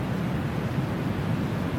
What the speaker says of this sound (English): you have heard the sound of surf